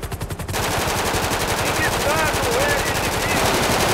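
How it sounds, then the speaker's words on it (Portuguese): Rapid automatic gunfire rattles in GTA 5 roleplay combat, loud and continuous bursts of evenly spaced shots with a brief pause near the start, while voices talk over the shooting. "Eu tava dando tiro de pistola também"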